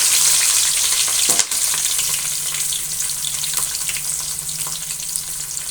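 Onions and green chilies sizzle and fry in a hot pan, a steady crackling hiss with occasional stirring scrapes, close and without talk.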